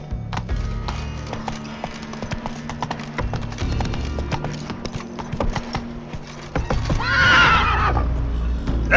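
Roach the horse in The Witcher 3 video game trotting with steady wooden clip-clop hoofbeats, then letting out a loud, close whinnying neigh near the end.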